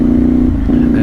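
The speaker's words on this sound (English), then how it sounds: "how can this bike that is already loud become even louder?" A loud CfMoto 450SR motorcycle engine hums at a steady, strong idle-like drone, brief and close, with a voice heard faintly over it.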